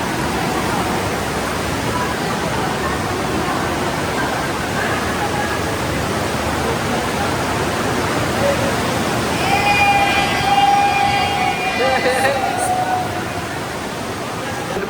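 Rushing river flowing inside a cave at Tinipak River, Tanay, Rizal, a dense, steady roar of water filling the space throughout, with voices talking faintly under it.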